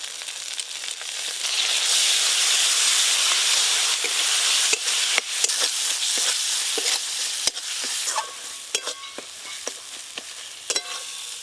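A cumin-spiced masala paste for katla fish belly curry fries in hot oil as a little sour yogurt goes in, giving a close, steady sizzle broken by sharp crackles and stirring scrapes.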